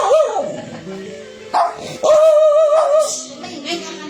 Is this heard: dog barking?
yes